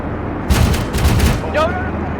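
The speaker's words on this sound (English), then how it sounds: "I'm hearing gunshots, what sounds like left" A quick burst of gunfire rattles, followed by a shorter volley, with a voice speaking briefly during the shots.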